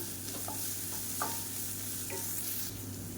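Onion with ginger garlic paste fries in a pan while being stirred, a steady soft sizzle broken by a few light scraping strokes of the spoon, with no talk.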